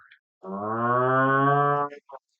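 A man imitates a cow with one long, loud, sustained moo, a deep harmonic-rich drone lasting over a second, set between brief quiet moments and a short vocal bit at the end.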